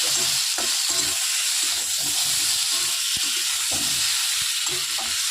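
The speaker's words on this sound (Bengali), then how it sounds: "টমেটো কয়েক টুকরো দিয়ে এটাকেও খুব ভালো করে কষিয়ে নিচ্ছি" Onion and tomato pieces stir-frying with spices, a constant close sizzle and hiss broken by regular scraping and clattering strokes of a spoon against the pan.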